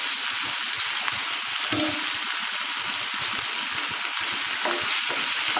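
Onions sauté in a pan for bread upma, a loud, unbroken sizzle with occasional stirring sounds underneath.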